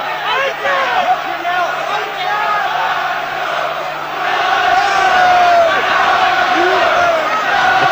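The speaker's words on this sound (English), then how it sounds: "Crowd once again bring up the chants of Nigel." Large boxing crowd at the Nigel Benn versus Chris Eubank fight, a dense roar of chanting and shouting from a packed arena that swells louder in the second half, with a commentator talking over it.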